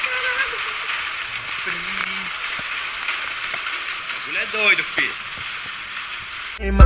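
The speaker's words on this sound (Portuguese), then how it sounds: "Lavar a moto na chuva" Steady rain falls with a constant hissing patter, as if frying, while a motorcycle is washed outdoors in the rain; someone speaks briefly and a thump closes the stretch.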